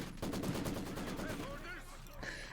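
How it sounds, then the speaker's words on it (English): Rapid machine gun bursts rattle in a tight volley in Company of Heroes 2, a World War II strategy game, fading into softer battle noise over a couple of seconds, fairly quiet overall. "It's just machine guns as far as the eye can see on this goddamn map."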